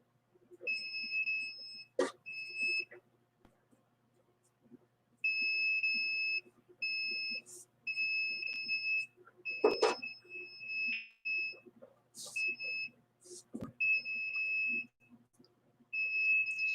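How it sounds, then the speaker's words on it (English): A detector alarm sounds in repeated bursts of high, shrill electronic beeping, starting and stopping in irregular runs, close and clear against a quiet room with a few clicks and bumps. "You will hear the alarm going off"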